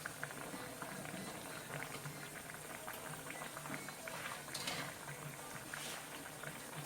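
Slivered onions sizzle in a tablespoon of olive oil in a pan, a steady crackling fry with fine popping and spatter running evenly throughout, close and moderately loud.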